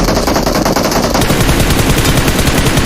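Rapid automatic gunfire from a PUBG Mobile match, loud and close, with dense continuous bursts that fill the whole stretch and no talking over them.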